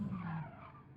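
Race car tires skidding and sliding across gravel in Gran Turismo 7, a loud continuous scraping rush with engine drone that eases slightly after the first half second.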